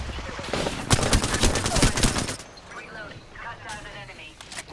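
Dense, rapid gunfire rattles for a couple of seconds as teams fight in a video game, then thins into softer scattered effects, with people talking over the action.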